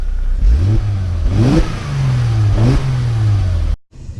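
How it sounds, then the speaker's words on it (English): Several sharp throttle blips from a 2007 Mercedes E350 4matic's 3.5-liter V6, each rising and falling in pitch, then a steady hum that cuts off abruptly near the end, with no voices over it. "Let's go ahead and rev up the old 6-banger."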